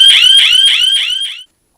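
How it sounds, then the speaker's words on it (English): Yunga motion sensor security alarm triggered by someone entering a room, sounding a loud, close electronic siren that rises and repeats in five quick pulses before cutting off abruptly. "and the alarm set off"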